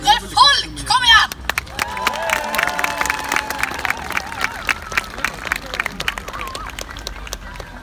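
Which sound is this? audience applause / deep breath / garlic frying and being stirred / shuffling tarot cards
audience applause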